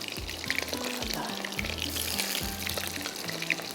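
Coated butterfly shrimp deep-frying in hot oil, a steady soft crackling sizzle with occasional bubbling pops, heard close but fairly quiet, accompanied by repeated low clunks and thumps.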